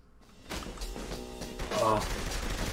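Gunfire in Saints Row: The Third Remastered, a dense burst of rapid shots and impacts over loud game sound, with voices talking over the action.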